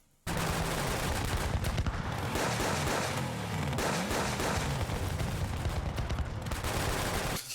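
Gunfire from pistols and an SMG in a TV drama bursts out as dense, loud rapid shots and volleys that run continuously for several seconds after a sudden start, with no talking.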